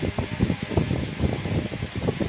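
A new electric fan runs with a steady whooshing hum and fluttering pulses of moving air, close by and with no voices.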